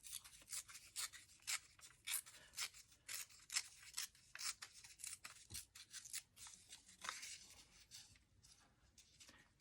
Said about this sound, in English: Just a little strip needed now right here. So I'm just gonna tear it off.